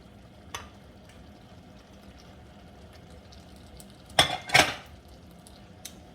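Eggs go into a pot of Ayamase stew with a few sharp clinks and clattering knocks against the pot in a quiet kitchen, followed by a faint tap.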